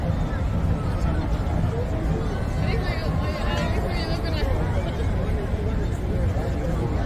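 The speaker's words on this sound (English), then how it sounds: "You can hear all the people on the American side just cheering." Distant crowd on the American side of Niagara Falls during the 2024 eclipse, a steady far-off babble of cheering voices blended with the constant roar of the falls, a nearby voice speaking over it.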